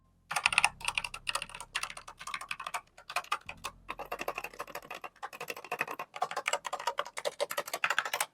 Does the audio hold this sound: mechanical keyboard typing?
yes